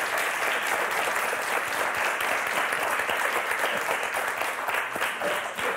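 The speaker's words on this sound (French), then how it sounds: "on va vous applaudir très fort" A studio audience on the French game show Motus applauds loudly and continuously, a dense, even wash of clapping that fills the whole stretch without a pause.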